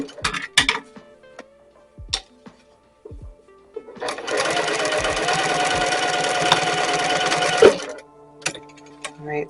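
A sewing machine stitches a towel onto a dress in one steady run of several seconds, a dense rapid whirring and clatter, framed by scattered handling clicks and taps before and after.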